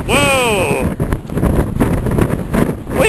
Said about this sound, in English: Windy! Turn that wind off.